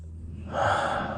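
A single deep breath drawn in sharply, close and fairly soft, swelling to a fuller rush of air partway through, with no talking.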